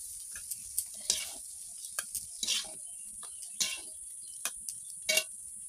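Mixed vegetable chorchori cooks in a pan: a faint, even sizzle broken by scattered spatula taps and clinks against the metal.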